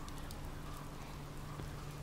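Rain begins falling in the video game Oxenfree, a steady soft patter of raindrops on surfaces with a low continuous hum underneath, even and unbroken throughout.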